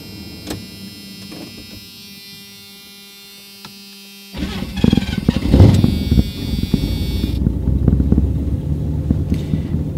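Pickup truck project fitted with a Thrush exhaust, quiet at first, then a loud engine start midway that settles into a steady rumbling idle.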